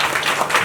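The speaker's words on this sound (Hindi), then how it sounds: "जोरदार ताली बजाएंगे ताकि" A brief burst of loud, dense clapping from a church congregation, many hands together with no pause.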